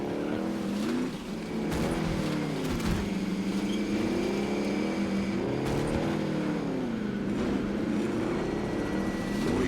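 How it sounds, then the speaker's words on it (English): An in-game vehicle engine drones loudly and steadily while riding, its pitch wavering up and down in slow surges, with a few sharp knocks and no speech. "Riding in this vehicle is so freaking loud."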